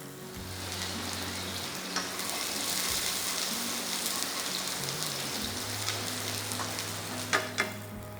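Chopped onions sizzle and fry steadily in a hot pan for a wok-fried chive rice dish, a continuous close crackling hiss with a few sharper pops and clinks near the end and no talking.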